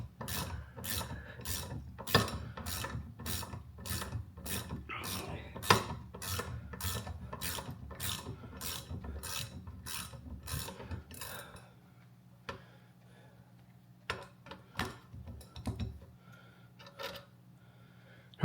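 Ratchet wrench backing bolts out of the clutch cover on a 1979 Triumph Bonneville 750, a fast, steady clicking run for about twelve seconds, then quieter scattered taps and clinks of the loosened parts.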